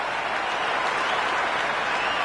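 Crowd applause follows a well-timed shot in a cricket video game, a dense, continuous wash of clapping and cheering from a large stadium crowd at steady, full volume.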